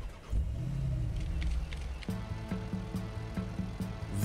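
A car in the game Watch Dogs rumbles and moves off, a low engine hum followed by a steady rhythmic pulsing as it drives, moderately quiet with no talk.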